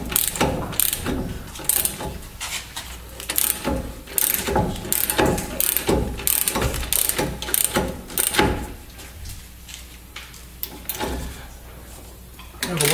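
Ratchet cranking a ball joint press on the upper ball joint of a 2002 GMC 2500 HD 4x4, a steady run of close, loud clicking strokes that slows and fades toward the end.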